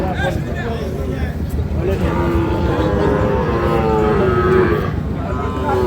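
Cattle, among them Sahiwal bulls and calves, low and moo repeatedly at a busy livestock market in Bangladesh. The calls are close, long and drawn out, and a general crowd murmur runs beneath them.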